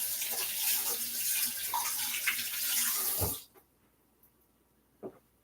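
Tap water running into a sink while mung beans are washed, a steady close splashing hiss that stops abruptly, followed by near silence with one faint clunk.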